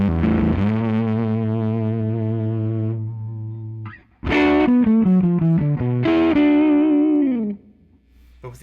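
An electric guitar with its volume knob turned all the way up plays through a PRS HXDA amp, giving a loud, full, sustained chord that rings out, a short pause, then another strummed chord with rich driven overtones.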